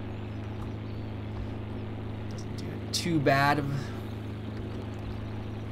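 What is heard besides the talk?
old tractor engine in cab, Farming Simulator 2013 video game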